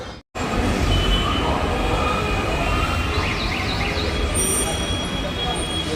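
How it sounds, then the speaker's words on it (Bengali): A Kolkata metro train pulls out of Shahid Khudiram station with a loud, steady rumble of wheels and motors filling the car. Brief rising whines sound midway, and voices are faintly audible beneath the noise. "ট্রেনে উঠে গেলাম এবং ট্রেন কিন্তু ছেড়ে দিল।"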